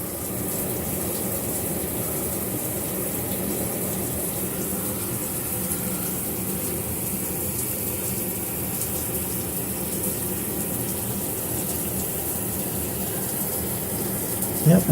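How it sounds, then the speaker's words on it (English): Water runs steadily from a pinhole under a bathtub while the shower is on, a constant close rushing and hissing wash with no breaks. "there's water right there, coming right out of that little pinhole"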